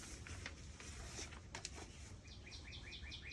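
Small birds chirp faintly in a quiet outdoor setting, a few short scattered tweets followed by a rapid series of repeated high chirps near the end.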